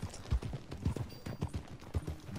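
Horse hooves clip-clop in a steady, even rhythm while riding in Red Dead Redemption 2, close and moderately loud across the whole stretch with no voices over it.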